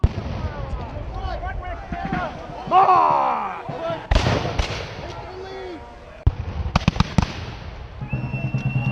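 Revolutionary War reenactors fire muskets, with sharp loud cracks and bangs going off near and far. Commands are shouted between the shots and outdoor noise carries on in the background.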